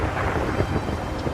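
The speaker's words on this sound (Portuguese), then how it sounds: "até que o navio foi atingido por um raio" A heavy thunder crash rumbles loud and close over steady rain as lightning strikes a wooden sailing ship during a storm, with a continuous roar and no voices.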